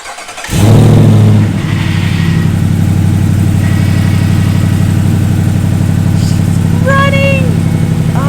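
A 6.4-liter SRT HEMI V8 swapped into a Jeep Wrangler JLU Rubicon cranks and fires at once, then settles into a loud, steady, deep idle that runs close up with a brief voice over it near the end.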